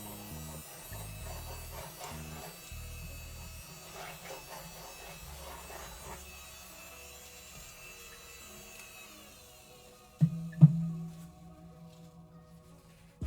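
A small Faber Castell artist desktop eraser vacuum hums steadily at low volume for about ten seconds, then stops, followed by a couple of sharp knocks and a brief low thud.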